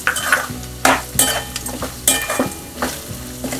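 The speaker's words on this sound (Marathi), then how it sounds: "आता मी याच्यामध्ये पंढरपुरी डाळ घालते." Pandharpuri dal roasting in hot oil with curry leaves in a pan for homemade chivda, stirred with a utensil: close sizzling under a series of scraping strokes at an uneven rhythm, with no talking.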